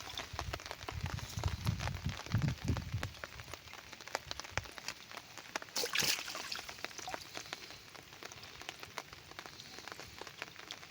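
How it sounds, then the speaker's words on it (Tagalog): Light drizzle pattering steadily, with scattered crisp drops and a faint trickle of water; a brief low rumble early on and a sharper splash midway. "Mahina na yung ulan mga kasisters. Ambon-ambon na lang."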